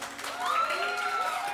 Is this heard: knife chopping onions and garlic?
no